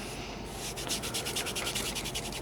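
Kinesiology tape rubbed briskly onto the skin at the wrist and forearm, a close, steady swishing friction with quick repeated strokes.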